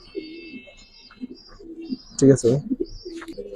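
A black exhibition pigeon gives soft, low coos in short bursts at close range, mixed with brief chirps and a louder flutter of sound midway, while someone speaks nearby.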